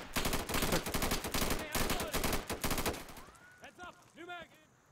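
Rapid bursts of automatic gunfire from the video game Insurgency, loud and dense for about three seconds, then tapering off as a voice speaks briefly.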